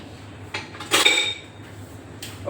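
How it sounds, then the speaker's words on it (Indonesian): A spoon stirs vanilla into brownie batter in a bowl, giving a few sparse, close clinks against the bowl, one ringing louder than the rest, with quiet pauses in between. "aku aduk kembali vanilanya supaya campur ya"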